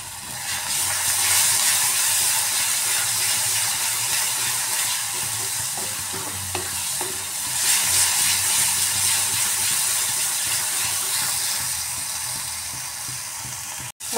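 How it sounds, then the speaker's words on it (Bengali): Onion and spice paste fries in a pan for an egg kofta curry, a loud steady hiss and sizzle with occasional scraping stirs, swelling and easing over its length. "মশলাটা খুব সুন্দর কষানো হয়ে গেছে।"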